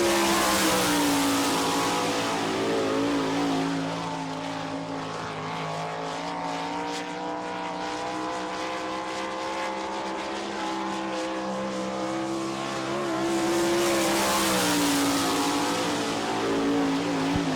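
A sprint race car on a qualifying lap at Barberville speedway, car number 23S with a J&J chassis and Kreiner racing engine, roars loud and steady, its engine note rising and falling as it circles the track.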